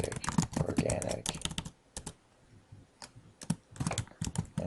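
Computer keyboard typing in quick bursts of close, crisp key clicks, with a short pause in the middle before the rapid tapping resumes.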